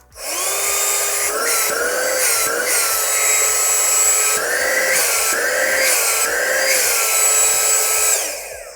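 A small car vacuum cleaner motor, a 120W Optima Allin1 compressor-vacuum unit, whines steadily and loudly for several seconds, its pitch wavering slightly, then cuts off near the end.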